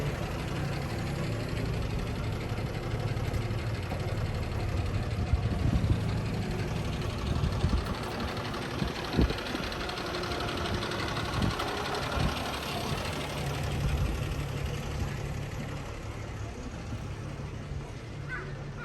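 A motorbike engine idles in a steady, continuous rumble amid outdoor street ambience in Schongau, with a few brief louder bumps and no talking.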